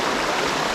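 Mountain river in Iwate, Japan, rushing steadily over rocks as a dense broadband wash of flowing water, close and continuous, with no voices.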